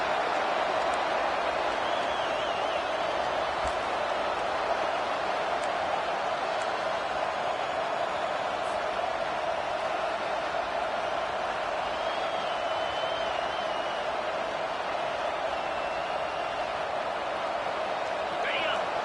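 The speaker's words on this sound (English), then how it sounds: "The roar of the crowd trying to fuel this defense to keep them pinned in their own end." A steady, dense roar from a stadium crowd in an American football video game fills the whole stretch at an even level, with no clear breaks.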